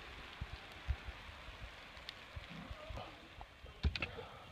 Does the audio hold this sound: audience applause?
no